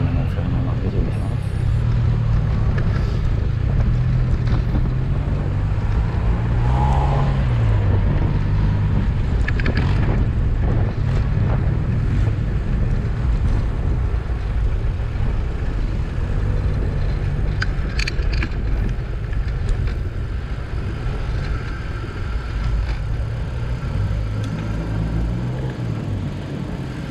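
A loud Yamaha T-Max scooter fitted with an aftermarket Akrapovič exhaust rumbles past on the road, its engine a low, throaty drone under heavy wind noise, with a voice talking over it.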